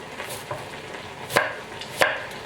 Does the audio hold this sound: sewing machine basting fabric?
no